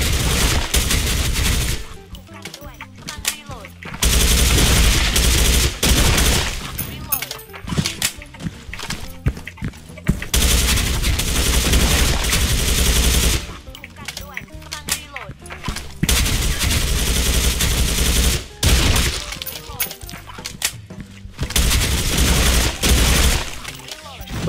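A FAMAS Black rifle fires in the online shooter Special Force 2, with loud automatic bursts repeating in several long stretches separated by short pauses, while other in-game sounds come and go.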